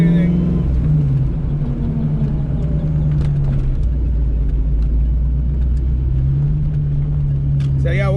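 A Ford 302 V8 with a GT40 upgrade on a stock ECU roars close by, its tone rising and dropping as it revs through successive gears, while someone talks over the engine noise.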